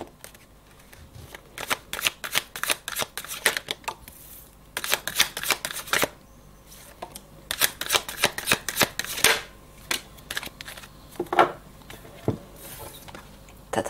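A deck of cards being shuffled for a card reading: repeated quick riffling and flicking bursts, close and fairly soft, with short pauses between rounds.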